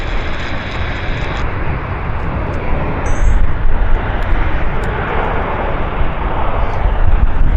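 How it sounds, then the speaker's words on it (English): A French Air Force Airbus A400 at Vancouver Airport gives off a loud, steady engine roar that swells slightly as it passes. No one speaks. "French Air Force, Airbus A400."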